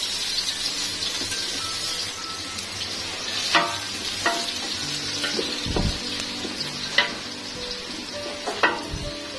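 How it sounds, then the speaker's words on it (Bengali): Onions frying in a large cooking pot, a steady close sizzle with occasional clanks and scrapes as they are stirred, no voices. "পেঁয়াজটা নেড়ে দিই, আবার এই পাশেরটাও নেড়ে দিই।"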